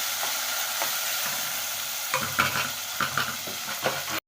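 Cauliflower pieces go into a pan with ginger paste for a Rayalaseema-style curry, with a soft sizzle at first, then louder, irregular stirring scrapes and clinks, close by and without voices.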